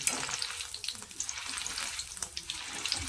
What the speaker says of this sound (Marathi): आता ही ना अशीच आपल्याला फ्राय करून घ्यायची आहे